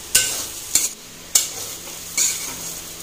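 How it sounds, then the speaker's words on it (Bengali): A spoon stirs a potato filling spiced with cumin and coriander powder in a pan for aloo kachori, making four sharp scrapes spaced about half a second apart over a low sizzle. "এবার ভালো করে নাড়িয়ে নেব।"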